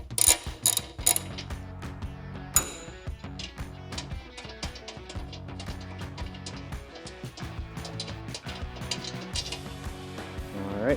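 A hand ratchet clicks in rapid bursts while removing rear fender screws on a Harley-Davidson Touring motorcycle, with uneven ratcheting runs and occasional metallic clinks, close and fairly quiet.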